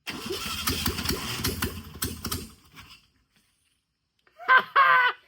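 A 1963 VW Beetle's 1300cc engine with no exhaust fitted cranks and fires in rapid, loud chugging pulses for about two and a half seconds, then cuts out; after a silence a person speaks briefly.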